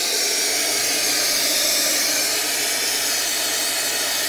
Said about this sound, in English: fill her up with hot water